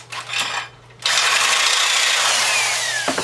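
A power drill bores a hole in a car exhaust pipe for an O2 sensor bung on an MK4 Jetta, starting with a short burst, then a sustained loud, rising whine that cuts off abruptly.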